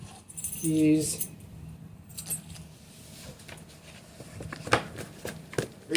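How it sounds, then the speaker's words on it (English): Keys jangle near the end with a few bright metallic clinks, after a short vocal sound and general shuffling handling noise at moderate distance. "Keys."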